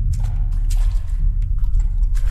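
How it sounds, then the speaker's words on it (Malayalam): Water drips and sloshes in a bodycam-style horror video game, soft wet splashes recurring irregularly over a low rumbling background, with no talking. "ഇവിടെ വെള്ളത്തിന്റെ സൗണ്ടാ."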